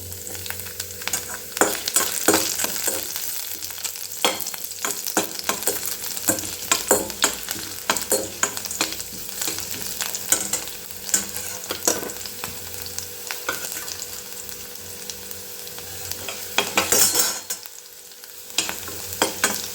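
Crushed garlic cloves sizzle and crackle steadily in a hot pan while being stirred, a loud, continuous close frying hiss with scraping stirs and no speech.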